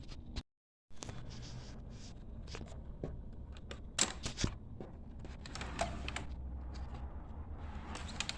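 A Samsung laptop's DVD-RW drive starts up with faint mechanical clicks, sliding clunks and a low whirring hum, scattered irregularly after a short silent gap.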